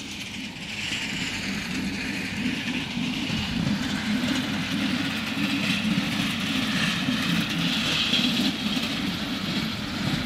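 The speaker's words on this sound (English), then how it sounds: "Another little diesel coming." A small diesel locomotive train passes on a railway line, a steady rumbling, whooshing roar of engine and rolling wheels holding constant and fairly loud for the whole stretch, with no talk.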